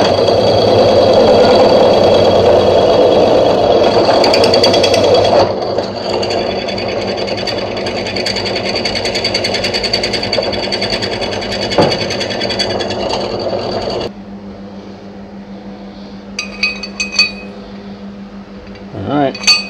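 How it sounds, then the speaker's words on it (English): A drill press whirs and grinds steadily at close range, drilling a part for a transmission jack, shifting to a lower hum midway, then stops, leaving a faint drone and a few metallic clinks. "Bigger drill press."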